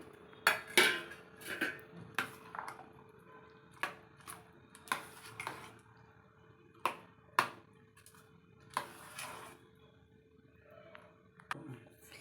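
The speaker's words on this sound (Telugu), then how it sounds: "దానిమ్మ గింజలు బనానా యాపిల్ ముక్కలు వేసి బాగా కలుపుకోవాలి" Pomegranate seeds, banana and apple pieces mixed in a bowl for fruit salad, with quiet, irregular clinks and taps of a spoon against the dish, close but soft, no talking.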